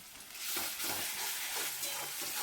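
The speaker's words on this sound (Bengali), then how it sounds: "দেখুন আদা রসুন কাঁচা লঙ্কা পেস্ট দিয়ে ভালো করে নাড়াচাড়া করে নেবো" A paste of ginger, garlic and green chillies is stirred as it fries on high heat, producing a bright, hissing sizzle that swells after a quiet start, with soft scraping strokes underneath, close and steady.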